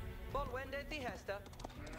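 Sheep in the video game Age of Empires IV give a few wavering bleats close together, with a voice talking alongside.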